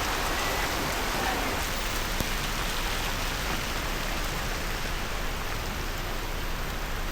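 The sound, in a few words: rain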